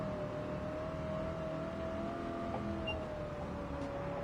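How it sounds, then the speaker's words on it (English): A virtual drag car with side-exit exhaust in Gran Turismo 7 holds a continuous engine note at fairly low volume, with the pitch shifting only slightly and no voices heard. "Look at you and your side exit fucking drag car exhaust."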